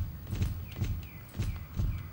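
Horse hooves clip-clopping at a steady walk in the Star Stable Online game, four or five evenly spaced thuds with a close, dull tone and no talk over them.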